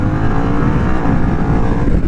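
Harley-Davidson Pan America ST motorcycle accelerating hard in sport mode, a steady, loud engine drone with rising revs filling the whole stretch, heard close from the rider's position.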